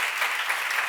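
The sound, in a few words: congregation applause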